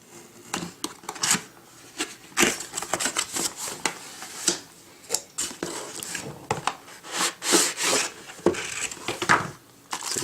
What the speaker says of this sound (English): so let's cut into the box itself.